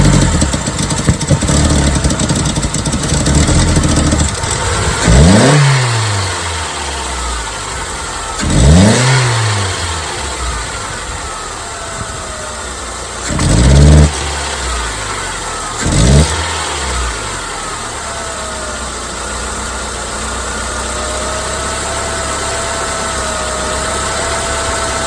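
The engine of a Saturn L300 car that needs a new engine idles, then revs sharply four times, each rev a loud rising surge that falls back to a rough idle, with a whine trailing off afterward.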